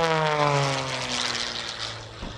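Propeller aerobatic airplane performing aileron rolls at the New York International Air Show, its engine roaring loud and close with a steady buzzing drone and shifting pitch.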